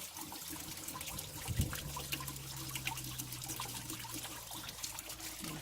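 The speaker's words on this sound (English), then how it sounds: "So this is the garden hose." Water from a garden hose runs steadily through the coolant system of a Mercedes Sprinter campervan during a flush, a faint, continuous trickle and rush over a low background hum.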